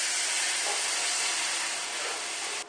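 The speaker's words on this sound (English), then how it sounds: "I'm going to go ahead and add 2 cups of milk to it" Two cups of milk pour into a hot roux for sausage gravy, making a loud, steady sizzling hiss like steam that holds for a few seconds with no talking.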